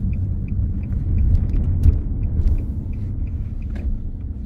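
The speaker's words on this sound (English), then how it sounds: "Plenty of power from this diesel engine." A 2014 Nissan Juke 1.5 dCi 8v manual diesel SUV drives along with a low, steady engine and road rumble, heard from inside the cabin, with faint ticking clicks recurring over it.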